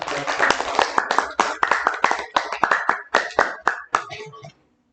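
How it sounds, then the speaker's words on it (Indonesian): Hands clap in a classroom-style presentation session, with a brisk burst of claps in uneven rhythm that thins out and stops after about four seconds, while voices murmur underneath. "Terima kasih, tepuk tangannya."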